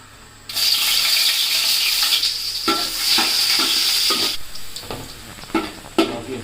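Chopped onions frying in hot oil for khichuri give a loud, steady sizzle close by, broken now and then by the scrape and clatter of stirring.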